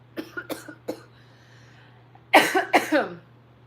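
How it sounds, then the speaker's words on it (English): A close cough sounds alone: three or four short, light coughs and a throat clearing, then a pause, then two heavier, louder coughs. "Sorry, I had to cough."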